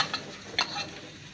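Chopped onion and sliced green chili frying in oil in a wok, a soft sizzle broken by two quick scraping stirs, close and fairly quiet.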